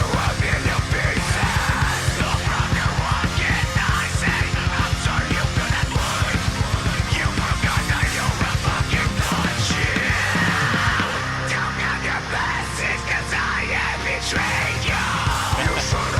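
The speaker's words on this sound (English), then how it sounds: "Classic Melodeath scream." Harsh, sustained melodic death metal scream vocals tear over a dense, loud mix of distorted guitars and rapid kick drums, raw and roomy, continuing without pause.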